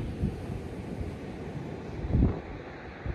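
Cold wind buffeting a microphone on Chesil beach at a sea-fishing spot by a landing craft wreck: a steady low rumbling roar with a couple of stronger gusts, no voices.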